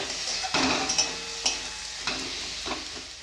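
Kashmiri chili, turmeric and coriander powders stir-fried in hot oil, a steady sizzle broken by several sharp scraping strokes of a spoon against the pan, close and fairly loud with no talk.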